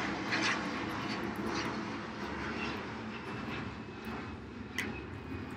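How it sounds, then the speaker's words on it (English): Airplanes flying overhead produce a steady, moderately loud drone that fills the whole stretch with no speech. "suddenly the planes are flying again"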